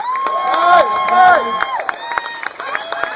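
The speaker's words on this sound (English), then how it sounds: "Let's give a round of applause." A crowd at a Maryland governor campaign kickoff rally cheers and shouts with scattered clapping, voices overlapping loudly at first, then thinning into sparse claps and calls.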